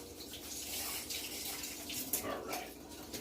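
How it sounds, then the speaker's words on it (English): Running water pours steadily from a tap as hands are washed beneath it, a constant near splashing hiss with small shifts as the hands move through the stream, set in a home kitchen. "Let me wash my hands a little bit."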